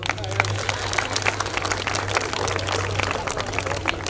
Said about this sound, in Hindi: अच्छा जालिमा तालियां तो बजा दो।